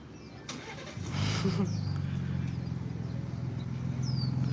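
A Ford Bronco Raptor engine cranks and fires up, a brief starter whir followed by a steady low idle rumble that settles and holds, close by.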